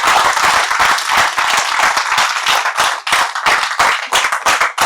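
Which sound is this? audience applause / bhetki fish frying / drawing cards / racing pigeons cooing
audience applause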